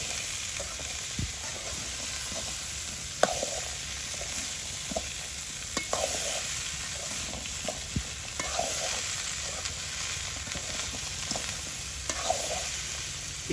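Potatoes, papaya and chopped vegetables frying together with small river fish in a village kitchen, a steady, close sizzle broken by repeated scraping stirs and occasional knocks of a spatula against the pan.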